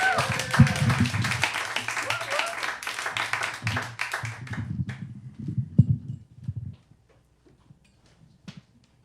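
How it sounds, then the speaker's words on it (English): Studio audience applauding and cheering for comedian Tyler Tuttle on a comedy show, a dense burst of clapping that swells and then fades out over several seconds, with voices mixed in before it trails into near quiet. "Give a big round of applause for Tyler Tuttle."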